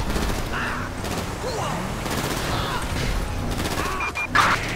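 Gunfire in Grand Theft Auto V, a continuous chaotic barrage of shots under police radio chatter and street noise, with a louder burst near the end.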